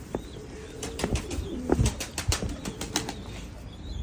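Domestic pigeons take off and fly in an evening training flight, their wings clapping in a series of sharp, irregular flutters, fairly close, with faint cooing and chirps in between.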